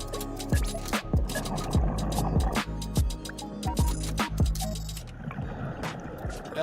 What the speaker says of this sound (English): You can hear the bubbles in the background.